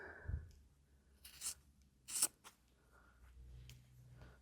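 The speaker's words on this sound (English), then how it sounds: "This is just the sound of scissors is me just trimming off to the edge" Scissors trim the edge of fabric for a slow-stitched landscape hoop, a few quiet crisp snips and rustles spaced apart in a hushed room.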